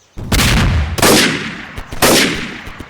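Three loud, close booming shots from a scoped gun in a video game, about one second apart, each with a long fading tail, and no talk.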